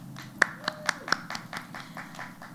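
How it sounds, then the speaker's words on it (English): Scattered hand claps from an audience at a school district's State of the District event, a handful of sharp separate claps over the first second or so, then thinning into a soft, uneven patter. "Please join me in giving our community groups a hearty DCSD round of applause."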